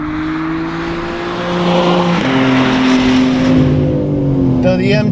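A BMW M3 CS (G80) drives on an autocross course, its engine tone holding steady and then stepping up through the gears with a rising drone. The car sounds loud and close, and a voice talks over it.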